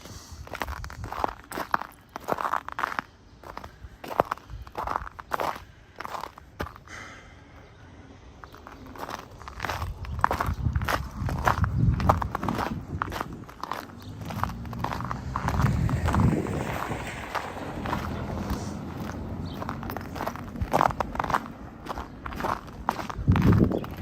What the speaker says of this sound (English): Without the external mic, you can hear the crunching noises better.